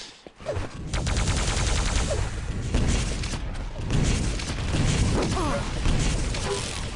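Rocket launcher fire rings out in a Quake Live team deathmatch, with repeated explosive blasts packed into a dense, loud stretch of game action.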